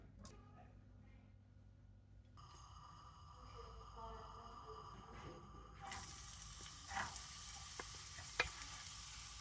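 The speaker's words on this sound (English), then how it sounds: "So the garlic, ginger, and carrots there. So fry the base." Garlic, ginger and carrots sizzle in a hot pan, a faint fry that swells into a loud steady hiss partway through, with stirring scrapes and clinks close by.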